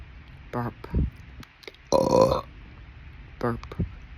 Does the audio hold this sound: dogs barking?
no